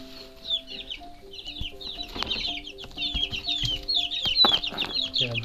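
Chicks peep in high, rapid chirps while hens cluck intermittently nearby, with a few brief rustles and thumps mixed in.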